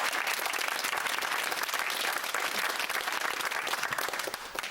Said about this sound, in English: So let's have a round of applause for Mum, Stuart and Jonathan Rawlinson.